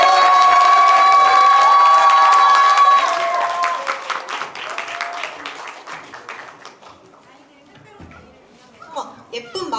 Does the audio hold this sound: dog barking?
no